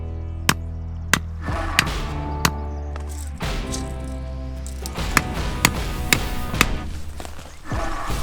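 Sharp, evenly spaced hammer blows driving stakes into the ground, about a dozen, striking steadily and loudly up close with a ringing metallic edge.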